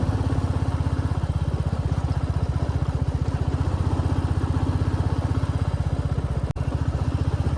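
Motorcycle engine running steadily with a rapid, even putter while riding a broken, rough mountain road between Kinnaur and Spiti, close and continuous with a brief knock near the end.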